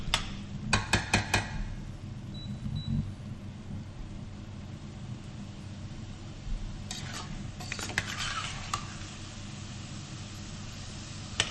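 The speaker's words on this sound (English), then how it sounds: "So what we're doing is just going to keep on stirring" A spoon stirs lamb vindaloo curry in a pan, with a burst of metallic scraping clinks at the start and again later over a quiet, steady background.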